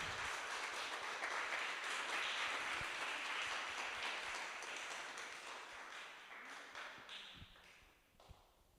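Congregation applauding for Jesus during a Portuguese-language church service, a broad sustained wash of clapping that slowly thins and fades toward the end.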